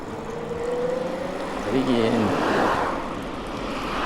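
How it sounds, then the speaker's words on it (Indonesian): A Eurobike electric bicycle motor runs with a steady low whine while riding through a forest in Japan, under continuous background rumble. "Jadi mesinnya aktif terus."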